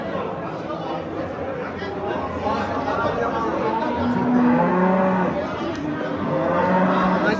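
Cattle lowing at an outdoor livestock bazaar in Bulung'ur, with a few drawn-out moos rising over a dense, steady murmur of crowd chatter and people talking.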